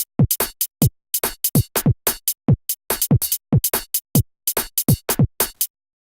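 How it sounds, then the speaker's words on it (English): UK garage two-step drum pattern at 144 BPM with a swung feel, crisp kicks, snares and hi-hats in a busy shuffling loop that runs for about five seconds and then cuts to silence, with no talking. "just utilize the basic UK garage type sound drums, and yeah, just come up with a drum pattern that sounds like this"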